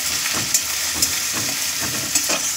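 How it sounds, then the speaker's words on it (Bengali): Onion, garlic and ginger sizzle and fry in hot oil in a pan, a steady crackling hiss with a few sharper spatters and stirring scrapes, close and alone. "পেঁয়াজ রসুন আদা দিয়ে দিচ্ছি।"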